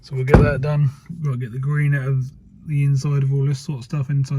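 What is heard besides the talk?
No everyday noise stands out behind the speech.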